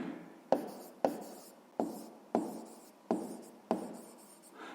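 Pen scratching on paper while working out a 6th-grade math problem, six evenly spaced stroke bursts each fading quickly, close and quiet with no speech.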